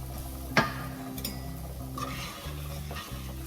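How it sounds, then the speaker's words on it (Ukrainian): Soft crackling and sizzling from a pan as mushrooms fry with porridge, with occasional scraping and clinks of a utensil stirring, steady and close. "до шпондера додаємо печарки та смажимо це все разом, постійно при тому помішуючи кашу"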